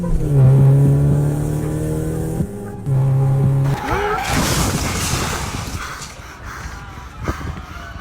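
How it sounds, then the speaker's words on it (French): A car speeds at 200 km/h with a revving engine and squealing tires, then smashes into a bus stop in a noisy crash, loud and close, with some voices mixed in. "Thomas Sullivan, au volant de sa voiture, pulvérise à 200 km/h l'arrêt de bus rue Petit"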